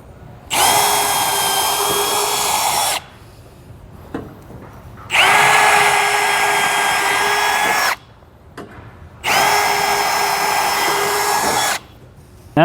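A power drill drills bolt holes for an E-Track bracket in three sustained bursts of about two to three seconds each, loud and close, with short quiet pauses between them.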